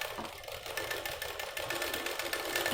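A sewing machine runs steadily, its rapid even stitching rattle close and continuous as it sews blouse lining and main fabric together in one straight seam.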